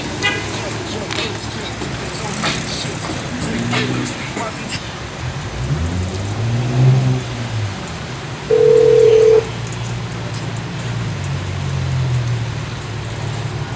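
Telephone tones sound over a steady roar of road traffic and background speech, with a few short dialing beeps and a brief, loud, sustained tone near the middle.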